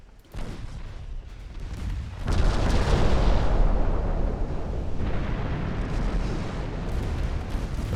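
Heavy battlecruiser naval gunfire in the game Ultimate Admiral Dreadnoughts: a booming salvo hits at once, then a long rumbling roar of further shots and impacts that stays loud and sustained.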